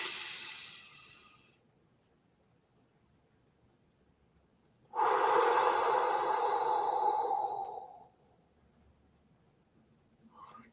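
Slow deep breathing exercise: a long audible exhale trails off, a few seconds of silence, then a strong close breathy rush lasting about three seconds before fading, with a faint breath at the end.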